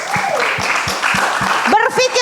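Seminar audience applauding in a hall, steady broadband clapping throughout with a voice speaking over it and a louder, tonal voice near the end.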